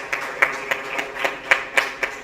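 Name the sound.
applause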